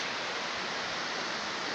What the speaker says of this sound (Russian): Тут речка тоже очень классная советую вам приехать сюда. Водопад.